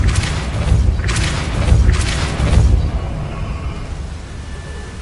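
The Depulso spell in a Hogwarts video game sets off a cluster of deep, heavy booms and whooshing bursts, three close blasts that fade into a low rumble.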